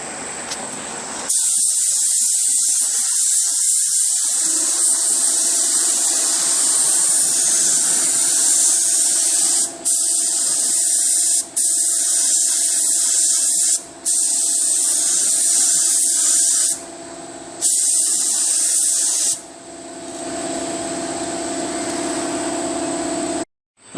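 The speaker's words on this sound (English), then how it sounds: "Alright, ready for primer. I'll just show you the first coat" A spray gun lays a primer coat on a repaired 2012 Nissan Altima bumper as a loud, steady hiss in long bursts, cut off several times by brief trigger releases, then ending with a softer, quieter spray.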